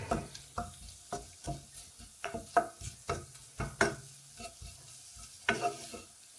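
Onions gently sweating in a pan for sausages with red onion gravy, heard as a soft steady sizzle broken by repeated scraping stir strokes in an uneven rhythm, close and moderately quiet, with no voices.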